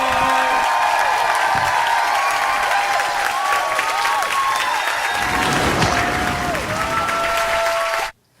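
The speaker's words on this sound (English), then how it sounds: "When you guys start clapping, make some noise." A studio audience bursts into sustained clapping and cheering with whoops, a dense, steady roar of applause that holds loudly before cutting off abruptly.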